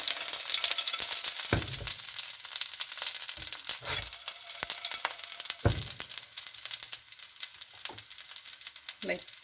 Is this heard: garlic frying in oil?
yes